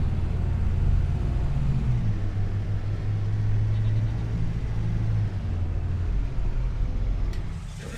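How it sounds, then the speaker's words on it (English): Car engine idling steadily while the car sits parked on a farm, a continuous low rumble at constant level throughout, close and alone with no talk. "I'm gonna park this car over here"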